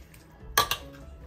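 Two quick clinks of a utensil against a bowl while chicken pot pie filling made with cream of chicken soup is stirred, close and fairly quiet.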